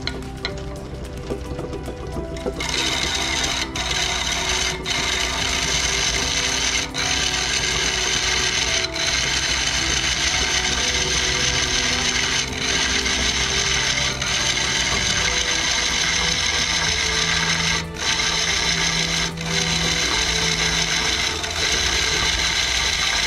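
A woodturning tool cuts a bevel on a spinning wooden vessel, giving a steady, loud scraping hiss that runs almost without a break after a quieter opening, with a few brief catches along the way.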